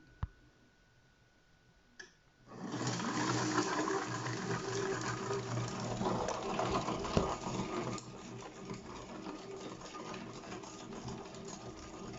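A kitchen robot starts a steaming step for chocolate fondant, its motor and steady hiss rising suddenly after a brief click and holding as a continuous, close mechanical whir with faint ticking, easing slightly toward the end.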